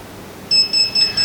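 An Alta motorized honeycomb shade remote beeps during limit adjustment, a loud, close, high-pitched electronic tone pulsing in a few quick repeated bursts.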